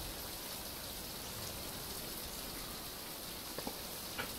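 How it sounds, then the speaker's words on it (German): Steady rain falls in the survival game Fountain of Youth, a continuous even hiss of drops with a few faint clicks near the end and no voices. "Immer noch Regen."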